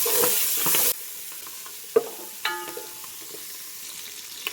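A lentil curry with fenugreek, curry leaves and fresh coriander is stirred in a pot, giving a few soft scraping and clacking strokes over a quiet simmer, with a louder burst of noise at the very start.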